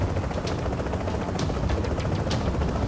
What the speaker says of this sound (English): We got a helicopter coming in.